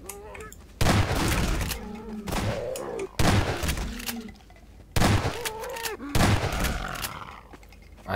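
Shotgun blasts in the video game Half-Life 2, four heavy booming shots spaced a couple of seconds apart, each with a long echoing tail, mixed with faint game sounds between them.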